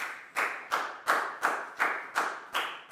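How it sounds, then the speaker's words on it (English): Students in a Year 4 maths classroom clap for a classmate, about eight evenly spaced sharp claps in a steady unison rhythm, close and fairly loud with no talking. "High five and a big round of applause for Lakau, please, guys."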